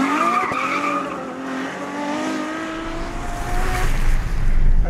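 A Ferrari F12 Berlinetta, a front-engine rear-wheel-drive car, accelerates flat-out in second gear, its loud engine note rising in pitch before a harsher roar with heavy road and wind noise at the end.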